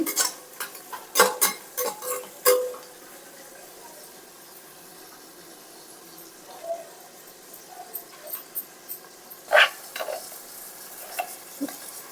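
Sliced onions for bagara rice frying in a pan, with a soft steady sizzle under repeated sharp clinks and scrapes of a spoon stirring against the metal, loud bursts early and again near the end.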